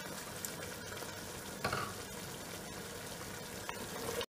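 Malabar mutton kurma masala is stirred in a pot after a cup of thin coconut milk goes in, giving a steady wet bubbling simmer with a brief louder scrape of the spoon partway through, no talking.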